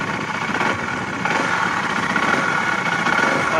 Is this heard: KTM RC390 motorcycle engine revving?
yes